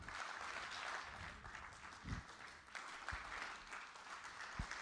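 An audience at a conference's opening keynote claps, faint and distant, as a diffuse patter of applause. Three brief sharper claps stand out over the low crowd noise.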